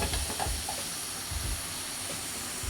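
Noodles tossed over high heat in a pan for a breakfast noodle dish, a continuous loud hiss and sizzle with faint scraping thumps underneath, close and steady throughout.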